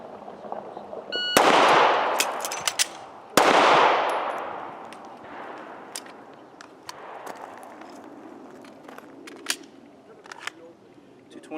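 Two sharp, loud M&P9 pistol shots ring out about two seconds apart, separated by a magazine change, each with a bright decaying echo, followed by quieter handling clicks and small knocks.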